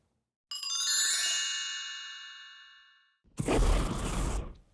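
A bright notification bell dings once and rings out in a long fading shimmer, followed by a short burst of noisy whoosh, both crisp and alone.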